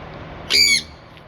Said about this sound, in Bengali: এই হচ্ছে আমার সানকুনুর পাখি।